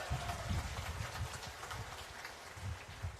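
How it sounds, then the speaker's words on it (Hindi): Dense, steady applause from a large crowd at a political rally in Jharkhand, a continuous patter of many hands clapping at moderate volume without pause. "जरा जोरदार ताली इनके साथ तो आपकी भी बजनी चाहिए।"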